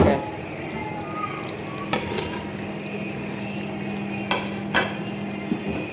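Tomatoes sizzling steadily in a hot pan of biryani base, a continuous fry hiss with a few soft clinks of a spoon against the pot.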